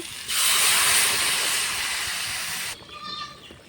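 Water poured into a pan of spiced potato curry with vegetable stems, giving a loud, steady hiss and sizzle that holds for over two seconds, then cuts off to a quieter bubbling.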